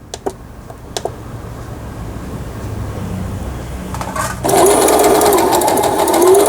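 A Brother XR6060 110V sewing machine runs a straight stitch, starting with a few light clicks and then settling into a steady, loud, continuous mechanical hum with rapid needle chatter.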